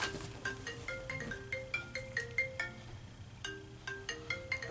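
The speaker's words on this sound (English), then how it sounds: "My phone is ringing, y'all, and it ain't even letting me hang it up." A phone ringtone plays alone at moderate volume, a bright, repeating electronic melody of short stepped tones in a steady rhythm that keeps ringing without stopping.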